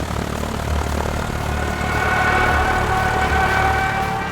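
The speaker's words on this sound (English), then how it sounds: "The planes lined up on Sundowner and began their wretched dive." Stuka dive bombers dive overhead with a loud continuous propeller-engine roar that builds slightly and carries a thin whining tone over steady droning.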